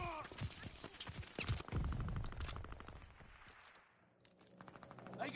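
Gunfire from a multiplayer shooter video game, a dense fusillade of overlapping shots and bursts, loud at first and easing off mid-clip before picking up again, with in-game voice callouts in the mix.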